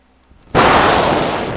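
A loud, sudden gunshot blast fires in the Beeftacular rage-quit game demo, jumping from near silence into a sustained, dense burst of noise that rings out for about a second.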